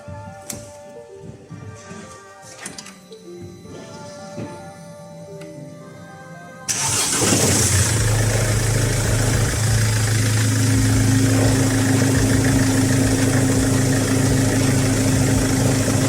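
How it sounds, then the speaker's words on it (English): A 2010 Mercedes C-Class W204 engine, just fitted with a complete new serpentine belt kit, cranks and catches, then settles into a steady, loud idle with a constant drone and a faint whine. No one speaks. "it's time for us to start the engine and see if it's working properly"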